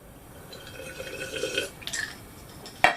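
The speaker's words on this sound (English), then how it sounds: "Alright, we got the water back on." A shower with a Moen 1225 cartridge runs after the water supply is turned back on, giving a quiet hiss with faint dripping and splashing, then a sharp knock at the end.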